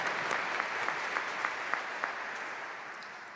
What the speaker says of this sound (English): Yes, please clap for her.